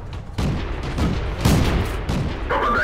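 Tank cannon fire in the World of Tanks video game: several loud, booming shots and blasts in quick succession over rumbling game noise, heavy and close.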